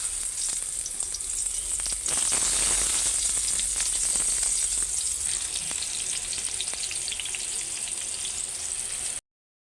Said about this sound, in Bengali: বেগুন চাকে হলুদ মরিচ মাখায় নিছি, তেলটাও গরম হয়ে গেছে। তো ভাজতে দিয়ে দিব।